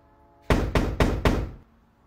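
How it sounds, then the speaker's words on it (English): Four firm, evenly spaced knocks on a door, loud and close, each with a short resonant tail, coming alone with no talk. "Somebody's knocking at your door."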